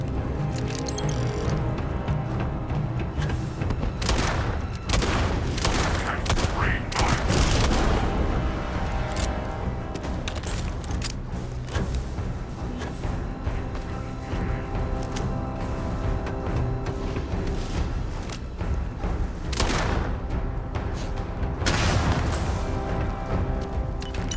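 Gunfire in the video game Starfield, with repeated loud broadband bursts across a dense, continuous battle din, several sharp shots standing out near the start and again later.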